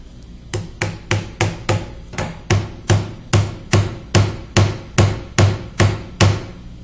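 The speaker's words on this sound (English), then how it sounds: "In fact, we can actually use this as a hammer itself." A Nokia Windows Phone is swung as a hammer onto a nail, giving about fifteen sharp, evenly spaced knocks in a steady rhythm, close and loud with no talking.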